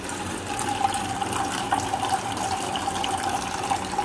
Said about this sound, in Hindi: इसमें डाल देना है पानी।